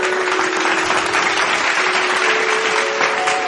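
Loud, even applause from a crowd at a devotional stage program welcomes a singer, a continuous dense clatter of many hands held at constant strength, with a faint steady tone running beneath.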